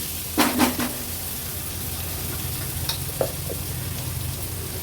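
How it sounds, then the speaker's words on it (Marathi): Tomatoes and spices mixed in a pan over a low flame, a couple of spoon scrapes up front, then a steady gentle frying hiss with faint stirring touches. "टोमॅटो देखील मसाल्यांसोबत व्यवस्थित मिक्स करून घ्यायचे गॅसची फ्लेम अगदी लोवर करून घेते मी"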